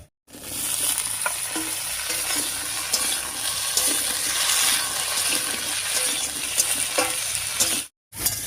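Chopped potato, aubergine and taro stirred into hot oil with whole spice tempering and fried onion, crackling with a steady loud sizzle and intermittent scraping stirs, no talk.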